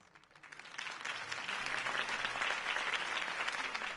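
Steady applause from a crowd in the game Batman: The Telltale Series, swelling in the first second and holding at a fairly even level, with a faint voice underneath.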